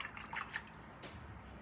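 Soft, close water sounds: a few light drips and small splashes as a watercolor paintbrush is dipped and swished briefly in water, very quiet overall.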